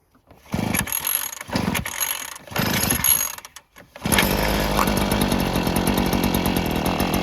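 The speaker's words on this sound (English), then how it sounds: "we're going to pull this till we hear it turn over, until you hear the ignition" Three rough rope pulls crank a small 53cc 2.6HP gas auger engine, which then catches and settles into a loud, continuous buzzing run.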